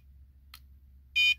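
Chinese diesel heater LCD controller beeping, a quiet faint blip followed by one short, clear electronic beep near the end, over a low background hum.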